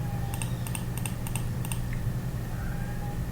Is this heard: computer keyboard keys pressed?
yes